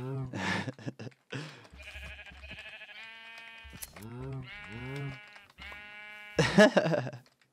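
Sheep bleating in Minecraft, several wavering bleats in a row with short gaps between them, fairly close and clear, ending with a louder burst of game noise.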